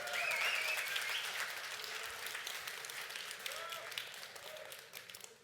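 A crowd at a RuneScape fan convention claps and cheers in steady applause that gradually fades over a few seconds, with scattered voices and a whistle mixed in.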